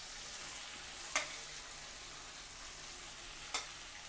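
Steamed rice is added to a pan for homemade Schezwan fried rice and stir-fried, a steady hissing sizzle with two sharp scrapes of the spatula.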